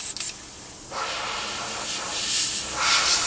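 An airbrush sprays paint onto a 1/48 scale F-14D Super Tomcat model, a soft steady hiss of air that starts after a brief click and swells in a few gentle pulses, close and alone.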